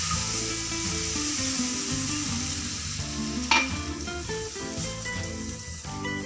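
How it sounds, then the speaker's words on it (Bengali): A cornflour-and-water mixture for homemade ice cream is stirred continuously in a pot over heat, giving a steady close scraping and bubbling hiss with a low hum underneath and one sharp knock midway. "এবার সারাক্ষণ নেড়ে যেতে হবে"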